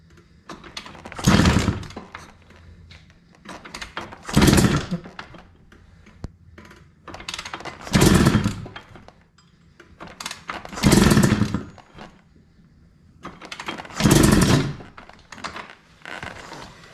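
A 1986 Kawasaki Tecate 3 three-wheeler engine turned over with the choke on, heard as five or six separate loud pull-start bursts spaced a few seconds apart, each sputtering briefly without catching, close to the listener.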